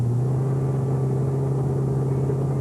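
A 440 cubic inch engine in a 1971 USAC championship car, detuned for low-lead gasoline, holds a loud, steady low droning rumble at close range throughout.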